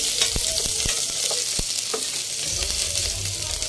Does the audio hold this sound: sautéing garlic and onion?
yes